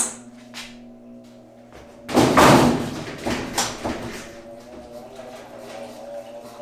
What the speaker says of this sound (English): there's a little bit of banging around at the beginning of the spin cycle